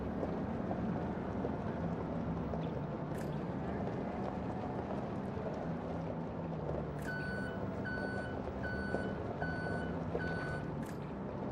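A reversing beeper on a vehicle in Farming Simulator 25 sounds as a run of evenly spaced electronic beeps over steady engine rumble, starting partway through and repeating about once a second.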